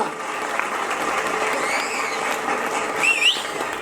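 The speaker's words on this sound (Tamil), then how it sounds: "திண்டுக்கல் பாபிக்கு உங்களுடைய ஒட்டுமொத்த கரகோஷத்தையும் செலுத்தலாம்." Studio audience clapping at a Tamil entertainment show, a continuous wash of applause at moderate level with a brief high whistle-like squeal near the end.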